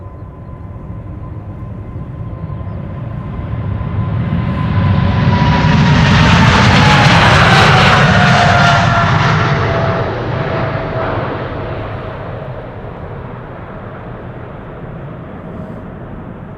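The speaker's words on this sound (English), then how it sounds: "KLM Flight 591 777-300 outbound to Johannesburg, South Africa" A KLM Boeing 777-300 jet departs Schiphol bound for Johannesburg, its loud engine roar swelling as it passes close by, with a whistling whine sweeping downward at the peak before the rumble fades into the distance.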